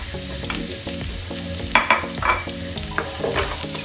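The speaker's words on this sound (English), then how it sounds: "Now you can add your onion. And some garlic." Onion and garlic sautéing in a pan, a loud continuous sizzle with repeated scraping strokes from stirring, close and steady with no talking, over a faint rhythmic background tone.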